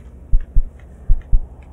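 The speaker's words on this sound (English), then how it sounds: "What is that heartbeat?" A low, muffled heartbeat thumps in the Kinito Pet video game, two lub-dub pairs separated by a short pause, heavy and close over a faint ambient hum, with no voices.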